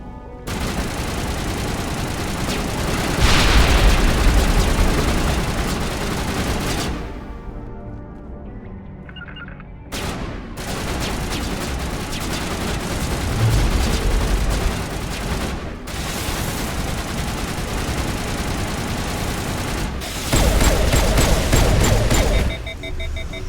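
Sustained gunfire and grenade blasts in Mass Effect 1, long stretches of loud, dense shooting with heavy booms, cut by brief silent gaps partway through.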